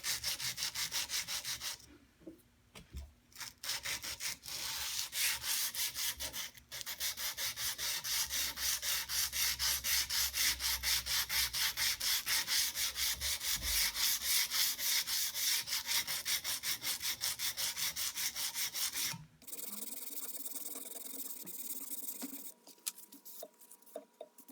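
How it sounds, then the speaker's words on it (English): A wooden screwdriver handle is polished by hand during a restoration. A fast, steady rubbing swishes on for nearly twenty seconds, fairly quiet and close, with brief pauses and a softer, thinner rubbing near the end. There is no speech. "Now the polishing process begins."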